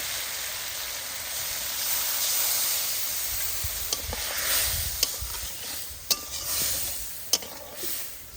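Water poured into a pan of sizzling mustard tengra fish curry, a steady frying hiss with a few sharp crackles and spits near the end, close and moderately loud.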